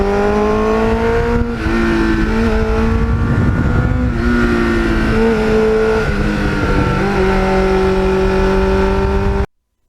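A restored 1989 Kawasaki GPX750R motorcycle cruising on back roads, its engine droning steadily with gear changes shifting the pitch, heard close and loud before cutting out at the end.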